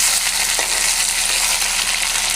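Hilsa fish heads fry in a pan over a medium gas flame, giving a dense, continuous close sizzle with steady crackling spatter and no talking.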